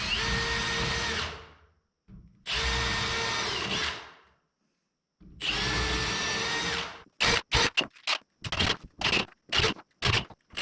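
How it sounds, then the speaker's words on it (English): A power drill pre-drilling holes in wood for coated deck screws: three long whining runs separated by pauses, then a quick series of short bursts, close and loud with no talking. "we're gonna have to pre-drill those holes because it cracked the wood."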